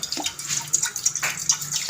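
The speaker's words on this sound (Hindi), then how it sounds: "1 गिलास मैंने पानी इसमें ऐड कर दिया" A glass of water is poured into a pressure cooker on the stove, a short splashing, trickling stream with small bright drips, close and moderately loud.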